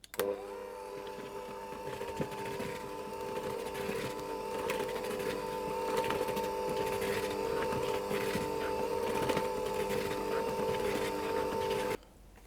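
A mixer on its lowest speed churns flour into Viennese sablé biscuit dough, giving a steady motor whine that runs for about twelve seconds and then cuts off.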